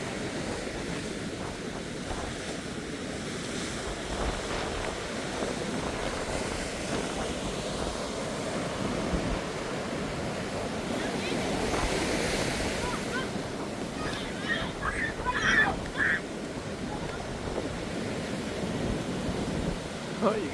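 Ocean surf and a steady breeze roll at PCH Pier as a continuous wash of waves with wind buffeting the microphone. Faint voices and small background sounds come through near the end.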